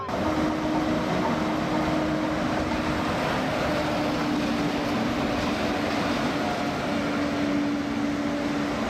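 A train rolls through the Maeklong railway market in Thailand with a steady, loud, continuous rumble and a low sustained hum, unbroken for the whole stretch.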